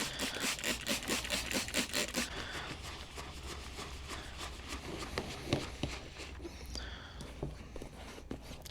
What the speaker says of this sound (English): Just kind of rub all that excess right onto the boot, and we get it going.